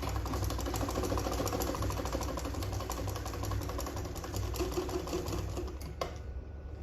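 A sewing machine stitching a 3-inch dart in a sleeveless gown, running in a steady, fast, whirring rhythm up close before stopping abruptly near the end.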